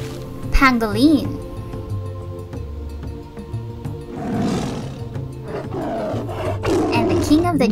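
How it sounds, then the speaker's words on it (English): A lion roars loudly in a long, rumbling burst, then growls again, set against a steady droning background with a voice at the start. "And the king of the jungle. Lion."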